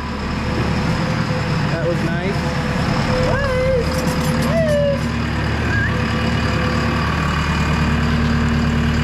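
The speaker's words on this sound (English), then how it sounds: "Got the JCB up and going." A JCB machine's diesel engine runs steadily at idle, a loud continuous low rumble with a few squeaks, while a person briefly speaks over it.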